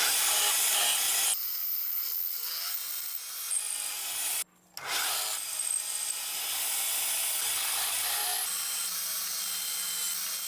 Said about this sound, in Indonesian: 3 titik ini akan saya lubangi dengan mata bor